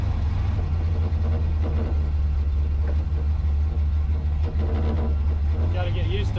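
A Chevrolet S10 pickup fitted with a swapped 8.8 rear end drives along, its engine and exhaust a steady, loud low rumble throughout, with a voice talking over it.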